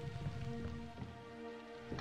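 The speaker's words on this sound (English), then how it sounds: "It sounds like it's raining." Steady rain falls in a modded Daggerfall Unity video game world, a dense hiss of drops over low ambient tones that holds for the whole stretch with no voices.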